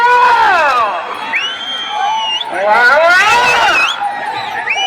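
A crowd at a bullock cart competition held at a temple festival shouts, whoops and cheers in loud, sustained waves, with overlapping voices rising and falling throughout.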